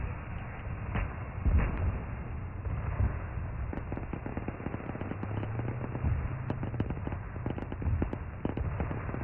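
Rapid bursts of machine gun fire in the military game Arma 3, crackling in repeated volleys with sharp individual shots, fairly loud and continuous throughout with no voices.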